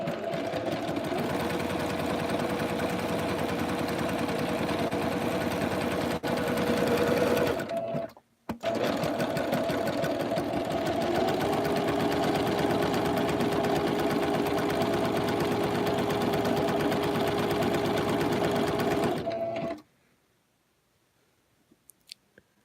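A sewing machine stitches a dog bed, a loud steady whir of rapid needle strokes that stops briefly near the middle, then runs again for about eleven seconds before falling silent, followed by a few faint clicks.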